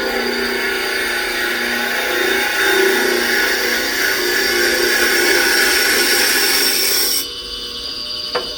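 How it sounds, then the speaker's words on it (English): A wood lathe spinning a workpiece while a gouge, held at 45 degrees, drills straight into its center; a steady, loud grinding and scraping whir holds for about seven seconds before the cut stops abruptly and the lathe hum drops. "holding the gouge at 45 degrees and just driving it straight into the center to drill"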